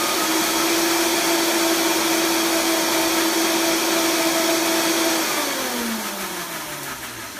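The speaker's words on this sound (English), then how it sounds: "One thing I love about the Vitamix, it gets everything so beautifully blended and pulverized." Vitamix blender pulverizing sesame-oil sauce ingredients, a loud steady high-pitched motor whine running alone before the pitch drops as it spins down.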